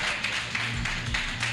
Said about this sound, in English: Round of applause now,